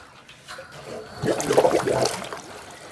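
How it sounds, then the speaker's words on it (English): Water bursting through a pool pump after its valve is opened while clearing a clogged impeller, a faint hiss rising into a louder rushing, gurgling surge for about a second and a half, then easing off, with no talking. "That extra burst of water will push out anything else that was stuck in there."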